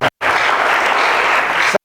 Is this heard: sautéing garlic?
no